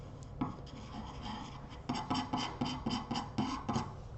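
Wood filler gets mixed with a putty knife on a workshop table, a close, quiet scraping and rubbing that turns into a steady rhythmic series of strokes in the second half.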